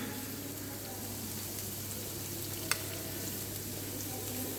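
Chopped carrot, cabbage and beans stir-frying in a pan for vegetable Manchow soup, giving a steady soft sizzle throughout with one brief sharp clink partway through, no talking.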